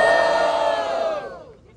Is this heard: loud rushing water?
no